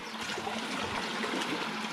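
Steady trickling and gurgling water flowing into an irrigation intake that feeds rice paddies, continuous and fairly close, with no voices over it.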